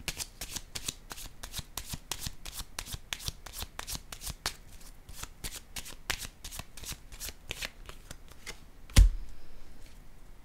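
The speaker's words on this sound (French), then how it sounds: "je vais piger maintenant une carte sur l'impératrice" Tarot cards are shuffled by hand in a quick, regular riffle of crisp flicking snaps for about nine seconds, ending in a single louder slap as a card is drawn, then quiet.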